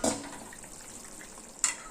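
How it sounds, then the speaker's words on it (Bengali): A lid comes off a pot of thin chela fish curry with potatoes and eggplant, cooked in very little oil over a gas flame. Two brief metallic clinks frame a faint, steady simmer. "এবার ঢাকাটা খুলে দিচ্ছি।"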